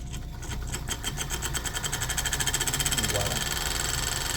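A homemade 1000-watt electric motor runs on a VESC controller, whirring with a rapid mechanical buzz and a steady rising whine that grows slightly louder as it spins up, close to the microphone.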